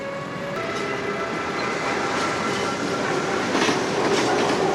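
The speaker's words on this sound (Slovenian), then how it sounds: "Dva vlaka." Trains pass on a railway in a continuous loud rumble and rattle with faint rhythmic clacking, building slightly toward the end.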